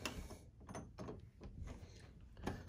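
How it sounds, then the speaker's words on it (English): A house door is eased open slowly and quietly, with very soft creaks, latch clicks and small mechanical rattles spread over a few seconds, all faint and close. "So I'm gonna open the door quietly."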